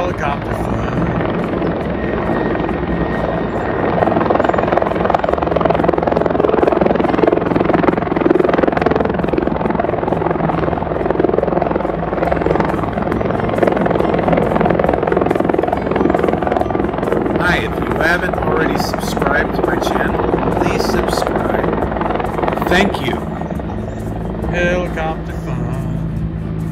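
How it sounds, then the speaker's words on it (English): Loud, steady helicopter rotor and engine noise throughout, close by, with a rhythmic chop that swells midway and persists, no talking. "watching some helicopter fun"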